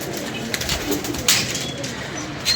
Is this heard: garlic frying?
no